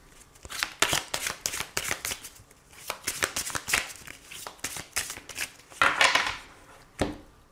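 Oracle cards from a mirror-themed deck are shuffled by hand during a tarot-style reading, giving a steady run of crisp, riffling card flicks and soft slaps, close and fairly loud, with no talking.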